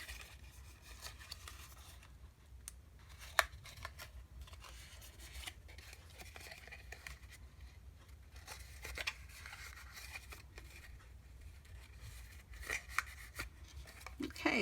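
Paper sides of a Valentine's Day treat basket are folded up and attached inside, giving quiet close creases, rubs and light taps over a low hum.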